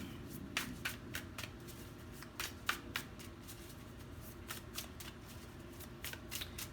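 Tarot cards being shuffled by hand, a quick run of crisp riffling flicks and papery slaps repeating across several seconds, close and fairly quiet with no talking.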